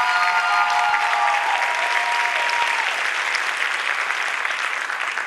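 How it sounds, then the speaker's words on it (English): A graduation crowd for a high school class of 2015 claps loudly and continuously, a full dense ovation that fades slightly toward the end, with a faint tonal hum near the start. "Let's give them another round of applause."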